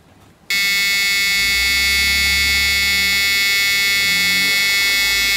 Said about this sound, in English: there will be a buzzer here that's gonna be making noise